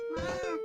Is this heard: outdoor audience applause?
no